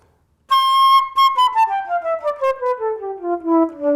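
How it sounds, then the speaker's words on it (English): A nickel flute plays a run of clear, high-pitched notes after a brief silence, starting on a sustained tone and then stepping steadily downward with distinct tongued articulations, close and fairly loud with no talking. "In the example of flute, we actually have a nickel flute here."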